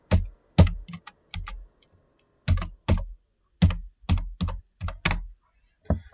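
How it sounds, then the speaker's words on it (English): Bursts of computer keyboard typing while entering a search in budget reporting software, quick clustered keystrokes in short irregular runs with brief pauses, close and clear with no talking. "So you click on the search bar, start typing"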